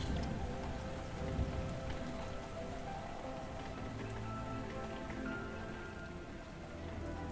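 Heavy rain pours steadily on surfaces outdoors, a dense, continuous hiss of drops without pause, close and fairly loud throughout.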